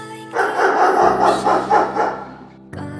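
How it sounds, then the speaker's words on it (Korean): A white dog barks fiercely, a dense run of harsh, loud close barks filling most of the moment, with a steady low hum underneath and no speech. "5년 만에 찾아온 아들 내외를 보고 심하게 짖는 백구."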